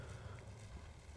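Horses in a strategy video game give off faint clip-clop hoofbeats under a dense, steady game soundscape, low in level and continuous across the moment.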